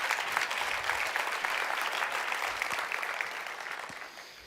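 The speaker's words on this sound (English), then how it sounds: "I think that deserves a round of applause." Audience applause at a TEDx talk, dense clapping that holds steady and then thins and fades toward the end.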